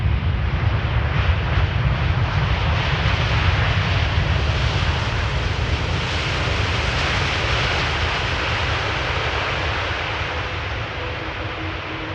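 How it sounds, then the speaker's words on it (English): A TUI Fly Boeing 787 Dreamliner inbound from Curaçao lands on runway 18R Polderbaan at Amsterdam Schiphol, its engines giving a loud, steady broadband roar that fades slightly toward the end, with no voices. "So this is a TUI Fly Dreamliner inbound from Curaçao."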